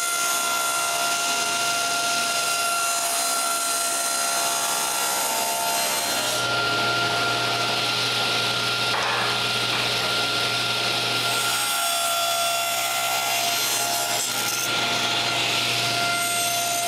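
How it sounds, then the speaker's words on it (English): Hand saw cutting corners off wooden blocks for a tripod, a continuous raspy back-and-forth rubbing close by, with a low hum starting partway and the strokes changing pace several times. "I mark all three blocks at once and cut their corners."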